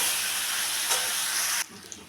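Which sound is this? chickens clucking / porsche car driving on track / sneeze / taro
taro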